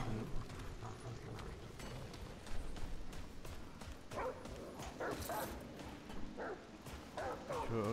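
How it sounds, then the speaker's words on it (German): A dog in the video game Remnant from the Ashes gives repeated woofs, yips and whimpers at moderate distance, scattered through the clip over low game ambience. "Ich höre irgendwie einen Hund, aber ich sehe keinen."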